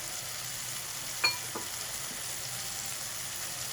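Minced meat keema fries in a pan as tomatoes are added, with a steady close sizzle and a couple of brief clinks of a utensil against the pan.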